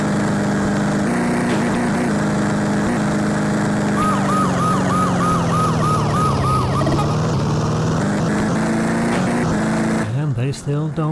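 A wailing siren in the Game Boy Advance game Smuggler's Run rises and falls in a warbling pattern over a loud, steady engine drone, with a voice talking over it.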